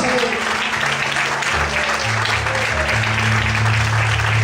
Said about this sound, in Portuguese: Vamos podem aplaudir e exaltar a Senhor